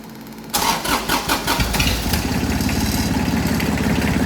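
A Kubota diesel engine swapped into an Allis Chalmers B tractor cranks in a few rough bursts, then catches and settles into a loud, steady rumbling idle close by.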